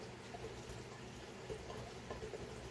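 Nitromethane fuel for an R/C engine pours messily from a large cup, a faint, steady liquid trickle and splash at low level throughout.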